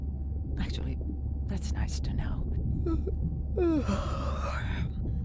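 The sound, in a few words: yawn, from the video game Beyond Blue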